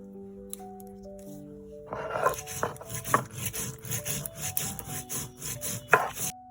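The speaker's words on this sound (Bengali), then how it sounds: "দিয়েছি জিরে আর কয়েকটা কাঁচা লঙ্কা, দেবো কয়েকটা সরিষা আর দেবো পোস্ত। আমি এগুলো সব একসাথে বেটে নেব।" Cumin, green chillies, mustard seeds and poppy seeds being ground together on a stone for a Bengali steamed fish dish, giving steady rhythmic rasping, rubbing strokes over background music.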